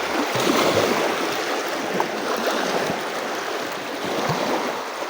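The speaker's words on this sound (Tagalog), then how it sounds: "Tamang okay lang ang alon." Waves lapping around a small fishing boat on open water, a steady, moderately loud wash with soft irregular splashes and thumps, no voices.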